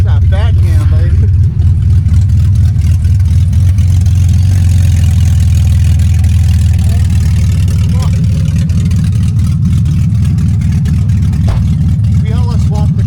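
A BMW E46 idles loudly and steadily with newly fitted headers and a full exhaust, a deep continuous rumble with a faint engine whine, close by, while people talk over it.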